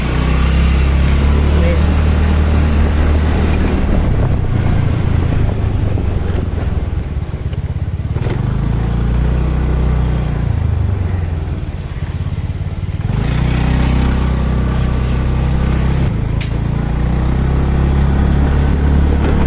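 A ride through road traffic on the way to the Ballaleshwar temple at Pali, with continuous engine rumble and heavy wind buffeting that swells and dips slightly over the whole stretch.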